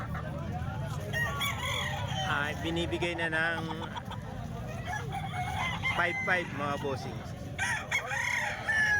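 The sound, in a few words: chickens crowing and clucking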